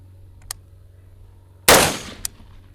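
Single loud pistol shot from a handgun fitted with an RMR sight, fired at a paper target, with a sharp crack and short ringing decay after a few faint clicks.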